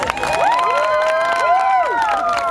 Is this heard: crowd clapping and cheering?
yes